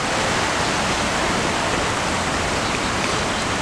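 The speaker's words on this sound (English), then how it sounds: "The waterfall" Steady rushing roar of an artificial waterfall on a desert hill in a Qatar family park, continuous broadband splashing with no breaks, close and even throughout.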